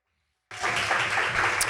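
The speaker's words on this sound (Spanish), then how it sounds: "dale ese aplauso fuerte a la palabra de Dios" A church congregation bursting into loud applause, sudden onset after silence, dense clapping close and continuous.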